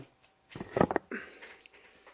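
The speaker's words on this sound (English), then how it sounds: "Dog is excited." An excited female dog whimpers and whines in a short burst of high, breathy cries lasting about half a second, followed by softer fading whines, fairly close and with no talk.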